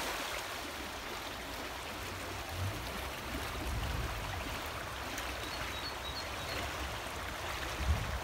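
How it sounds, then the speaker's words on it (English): The River Dane in Cheshire rushing along beside a walkway, a steady broadband roar of flowing water, continuous and fairly close with slight swells, no talking heard. "That is a busy river."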